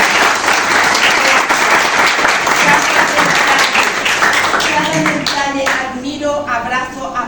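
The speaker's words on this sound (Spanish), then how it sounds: "Y yo quiero un fuerte aplauso para este señor." Loud, dense audience applause at a ceremony honoring a speaker, with clapping filling the room throughout and easing slightly toward the end.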